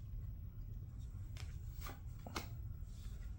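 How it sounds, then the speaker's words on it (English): A tarot card being flipped over during a reading, heard as a few faint, brief papery snaps and slides against low background hum. "Now let's flip this card"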